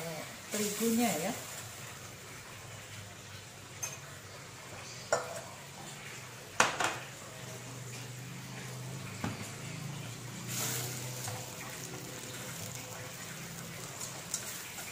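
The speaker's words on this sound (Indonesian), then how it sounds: "Lalu kita goreng terigunya ya." Flour frying in a pan over a low flame as the base for a carbonara sauce gives a faint, uneven sizzle with scattered stirring scrapes, with occasional voices in the background.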